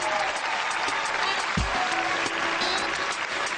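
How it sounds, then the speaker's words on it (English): Comedy show audience applauding and cheering after a stand-up set, a dense continuous wash of clapping from a crowd, loud and steady. "Give it up for Dana, y'all."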